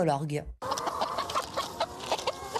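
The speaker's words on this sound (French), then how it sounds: "élever des poules pondeuses" Laying hens cluck and chatter in a busy coop, with a brief tonal call at the start followed by a short gap, then overlapping clucks.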